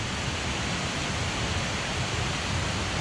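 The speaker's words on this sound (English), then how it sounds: "Come all that way to see the waterfall" A waterfall in rainy Yorkshire, its steady rushing roar of water filling the scene evenly and continuously without a break.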